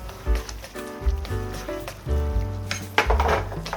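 Sauce for Chapagetti sizzles and scrapes in a pan over low heat as it is stir-fried, with clinks of a utensil against the metal, up close.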